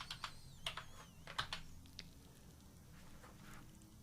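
Typing on a computer keyboard to enter dimensions into AnyRail track-planning software, a faint, quiet series of light key clicks clustered early, then sparser taps, with no talk.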